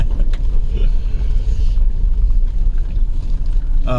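A manual stick-shift car is driven with a loud, continuous engine rumble and road noise heard from inside the cabin. Faint voices sit underneath.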